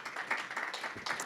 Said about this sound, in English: Please, a round of applause as well